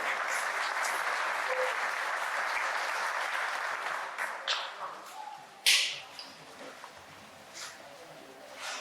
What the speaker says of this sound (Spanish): Recibamos por favor con fuertes palmas al profesional